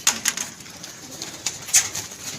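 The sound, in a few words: pigeons cooing in a breeder's loft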